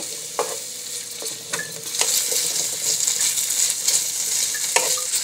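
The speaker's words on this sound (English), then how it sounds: "I added some cooking oil. Now let's add the garlic. Let's add the onions." Garlic and onions sizzle in hot cooking oil for beef kaldereta, a steady crackling hiss with repeated spatula scrapes and knocks against the pan, close and fairly loud, with no voices.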